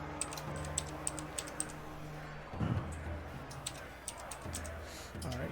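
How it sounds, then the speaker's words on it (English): Someone types on a computer keyboard at a distance, faint irregular clicks of keys scattered through a low hum, with quiet talk in between. "That's actually my wife typing."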